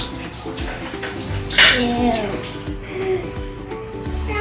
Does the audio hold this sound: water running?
yes